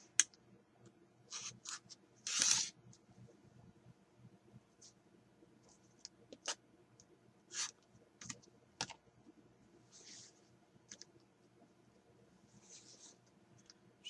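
Quiet, sparse cuts of tie-dyed quilt fabric with a rotary cutter held against a ruler on a cutting mat: short separate scraping strokes and light clicks, with pauses between, close and soft.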